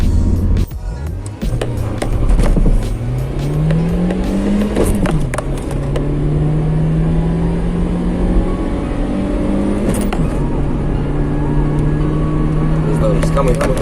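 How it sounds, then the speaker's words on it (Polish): A seventh-generation Honda Civic with a 1.4 engine accelerates on the road, its engine note rising steadily, dropping at a gear change and climbing again, loud and close throughout. "my już się przejechaliśmy, jak widzieliście, całkiem fajnie autko się zbiera"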